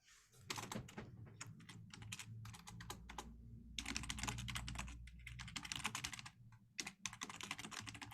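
Typing on a computer keyboard, close and fairly quiet, with quick irregular bursts of key clicks and brief pauses between runs.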